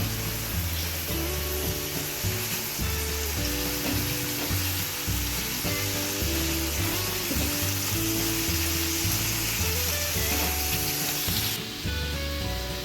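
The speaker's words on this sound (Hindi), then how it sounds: "ये भी इसमें शामिल कर दूँगी और इनको अच्छी तरह सारी चीज़ों को भून लूँगी" Ginger and garlic sizzle steadily with spices in a hot pan for baingan bharta, a continuous loud frying hiss with occasional stirring scrapes.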